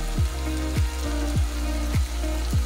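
Fried potatoes and a pinch of salt hitting a hot pan for a Bengali egg and potato curry, giving a steady loud sizzle broken by regular, repeating pulses throughout.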